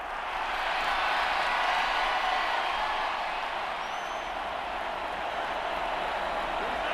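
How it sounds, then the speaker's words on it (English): Stadium crowd in the Madden NFL 24 football video game, a steady dense roar of cheering that holds for several seconds with a faint whistle partway through and no voices standing out. "Well, this crowd into it now."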